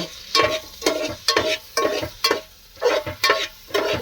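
A spoon scrapes and stirs puliyogare rice mix made with MTR puliyogare powder in a pan, in regular rhythmic strokes about twice a second, close and clear with a light sizzle.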